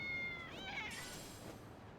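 A cat in the video game Lost Judgment lets out a single drawn-out meow that rises and bends, heard close and fairly quiet over a soft background hum.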